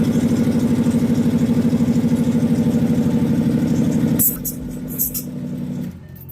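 A Ford Mustang with a Shelby remote clutch reservoir kit idles steadily with a close, pulsing engine rumble, then the tone shifts lower and quieter as faint clicks and rattles come through near the end.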